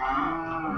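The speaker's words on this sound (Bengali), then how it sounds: "গরুটি কিন্তু নামানো হচ্ছে" A cow being unloaded at a cattle market gives a single short, low moo close by, heard alone.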